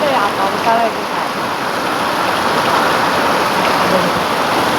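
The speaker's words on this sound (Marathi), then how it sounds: "तर बघू शकता हा पाऊस बघा वाढतो, अजूनच जोरात वाढत आहे" Heavy rain pours down steadily in a dense, loud, unbroken hiss that stays close and constant from start to finish, with no pauses in the downpour.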